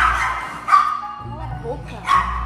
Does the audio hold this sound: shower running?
no